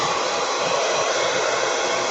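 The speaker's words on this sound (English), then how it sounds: "There's my dryer." A hair dryer blows steadily on wet glue in a small craft project, a close, constant whooshing whir with no voices.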